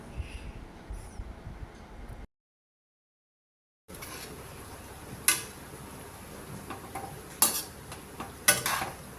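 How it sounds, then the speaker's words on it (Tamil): A spoon stirs prawn pakoda vada curry in a pan, with soft scraping and clinks of metal against the pan, a short silent gap midway, then several sharper scrapes near the end. "போட்டு நல்லா கிளறி விடலாங்க"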